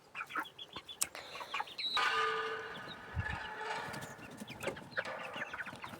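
A flock of mostly hens with a few roosters clucks and calls on a farm, scattered overlapping clucks and squawks, near and moderately loud, with one longer call cutting through midway.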